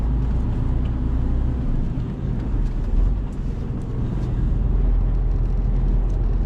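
A delivery van's engine rumbles steadily up close as it turns around in a car park. The low, continuous drone swells slightly with no voices over it.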